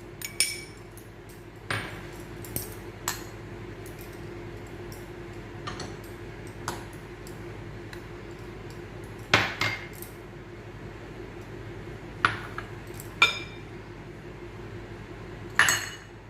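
Spices for a raw mango and kabuli chickpea pickle are put into a plate. Sparse, sharp clinks and taps of spoon on metal dishware come at irregular intervals over a quiet, steady room hum.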